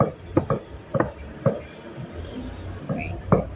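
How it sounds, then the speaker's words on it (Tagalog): An onion being chopped with a knife on a board gives a handful of irregular, moderately loud chops scattered across a few seconds, with quiet talk in the background. "Kailangan maghiwa daw yung sarili mo ng sibuyas"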